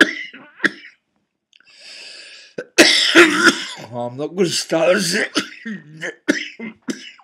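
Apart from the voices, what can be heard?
coughing fit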